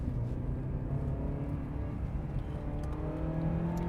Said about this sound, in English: You really have to work this little engine to get it to move.